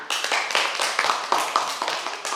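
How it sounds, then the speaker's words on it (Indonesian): Scattered clapping from a classroom of schoolchildren, a quick run of uneven hand claps close by across the whole stretch. "Tepuk tangan."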